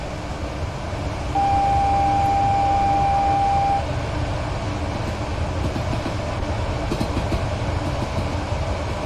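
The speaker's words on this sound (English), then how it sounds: "I can hear a freight train." A freight train rolls past in Train Sim World 2 on the London Commuter route, a steady, loud, broadband rumble with faint wheel clicks throughout and a brief high tone in the middle; no one speaks.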